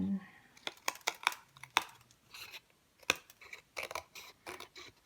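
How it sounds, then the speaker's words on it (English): Scissors snip through paper while a Halloween treat box is trimmed to size, giving a close, crisp series of irregular cuts with short pauses between them. "using your scissors to cut off the bulk a little bit more"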